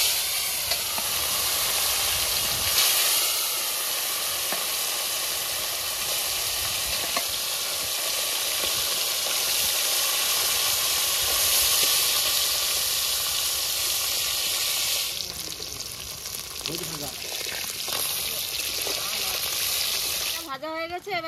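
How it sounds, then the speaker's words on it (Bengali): Fish fries in hot oil in a kadai, giving a loud, continuous close sizzle and hiss that keeps going for about twenty seconds, with brief stirring and clattering toward the end. "এবার মাছ দিয়ে দেবো।"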